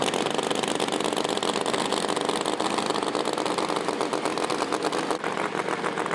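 A Chevy Camaro and a Fox-body Mustang drag car rumble and rev at a Street Car Takeover event in Atlanta, a dense, continuous, loud engine roar with no pauses.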